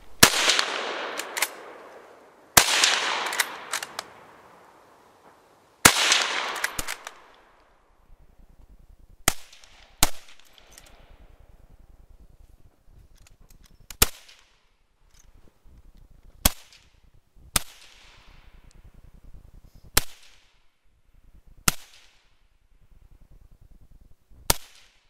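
Rifles fire at a Winter War commemorative shooting competition, from standing, kneeling and prone positions. About a dozen sharp cracks come at irregular intervals, the early ones loud with long echoing tails and the later ones fainter and more distant.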